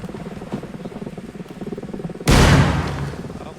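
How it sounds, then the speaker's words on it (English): A frag grenade bursts during a military field training exercise, a single sudden loud boom with a decaying rumble that follows a stretch of quieter background noise and movement. "We're throwing a frag in here."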